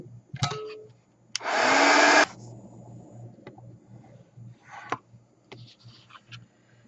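A heat drying tool blows on a freshly stamped card in one loud steady burst of about a second, framed by faint handling clicks and rustles before and after.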